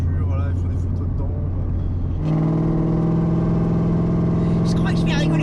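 A heavily modified Corvette C5 V8 idles with a deep, loud rumble, then its pitch steps up as the engine is revved and held. The car is at a gathering where people sit in cars, and voices murmur underneath.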